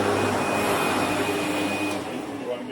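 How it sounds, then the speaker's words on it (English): Loud, steady roar of a vacuum cleaner hoovering a sand-coloured carpet during a deep clean, heard up close with a constant whine and no clear speech. "You're just hoovering it."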